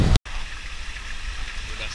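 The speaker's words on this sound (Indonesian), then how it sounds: "Ada pancuran dan terjun." A waterfall and water spout at a bathing spot in a Bali forest give a steady, close rushing of falling water after a brief cut at the start.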